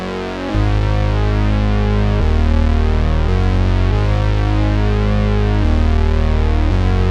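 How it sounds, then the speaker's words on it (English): Juno 60 synth bass on a phasing saw preset, playing loud sustained notes that change pitch every second or so, with a rich buzzing tone and slow sweeping phaser movement throughout, alone with no voices. "This is the bass phasing saw preset, and that sounds like this."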